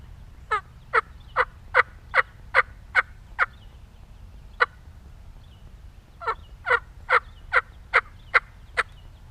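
A soft tree yelp imitating a wild turkey on a diaphragm mouth call: two bursts of about eight evenly spaced, clear yelps separated by a pause, close and moderately loud, with no talk.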